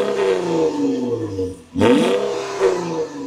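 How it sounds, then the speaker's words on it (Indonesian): A modified Jeep with a 3.6-litre Pentastar V6 and a stainless Borla dual-exit exhaust revs in two aggressive throttle blips, the second sharper and louder, with a deep rumbling tone between them. "Sekarang knalpotnya sudah lebih gahar dan lebih enak lagi suaranya."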